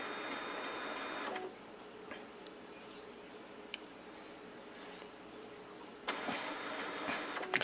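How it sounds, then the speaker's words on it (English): Epson Stylus C86 inkjet printer running a purge and prime cycle, a steady mechanical whir that drops to quiet with faint ticks and clicks, then resumes louder near the end. "It's now doing a purge"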